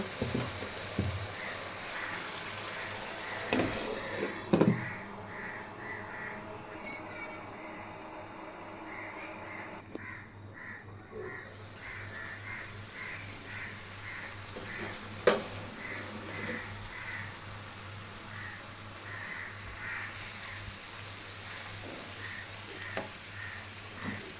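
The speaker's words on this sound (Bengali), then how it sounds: "অল্প পরিমাণে পানি দিয়ে আমি মশলাটা ভালোভাবে 10 মিনিট কষাই নেব।" A masala for rui fish curry fries with a little water in a pan, a continuous low hiss and sizzle with occasional soft stirring scrapes, fairly quiet and steady throughout.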